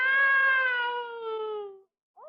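A man imitates a cat with one drawn-out, nasal meow that slides gradually downward in pitch, loud and close, followed by a brief pause.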